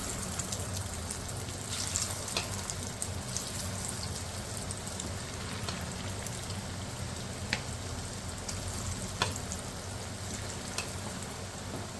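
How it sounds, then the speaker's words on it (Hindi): Marinated chicken fries in hot oil, making a steady, fairly quiet crackling hiss like light rain, with a few sharp pops scattered through it and no talk. "तो ऑयल थोड़ा सा गर्म हो जाए तो फिर हम इसमें फ्राई करेंगे सारे चिकन को"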